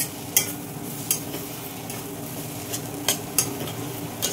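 Cooked lentils being stirred into a beetroot curry in a pan: a spoon scrapes and clicks against the metal at irregular intervals over a soft continuous sizzle, close and fairly loud, without talking.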